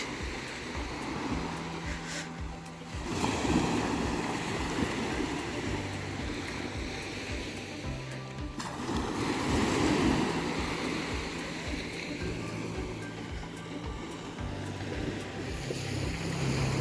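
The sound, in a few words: beach waves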